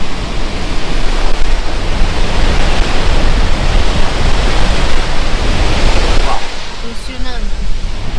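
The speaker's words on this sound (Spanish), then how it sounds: "cascada allí. Mira." A powerful waterfall on the Trollstigen road in Norway roars loudly and steadily, a dense wash of rushing water that fills the whole scene.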